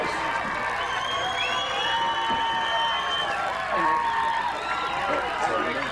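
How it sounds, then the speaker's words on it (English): Fans at a Wheaton women's soccer game against Cal Baptist cheer and clap as the team runs over to greet them, a steady crowd roar with shouts and whoops, some voices nearby talking over it. "You might hear some applause right now from them."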